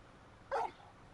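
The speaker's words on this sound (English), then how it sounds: "Bark." Single short dog bark from the Final Fantasy XVI video game, one sharp mid-distance woof against a quiet background.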